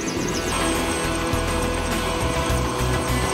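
A helicopter on a tour over Lake Mead and the Hoover Dam roars steadily and loudly throughout, its rotor throbbing low underneath a constant engine whine, heard from inside the cabin.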